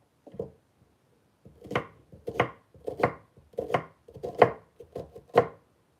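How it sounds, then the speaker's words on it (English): A knife chops onions on a cutting board in a steady series of sharp, close thuds, about eight distinct strokes spaced roughly half a second apart after a brief opening pause. "I'm cutting onions with my eyes closed."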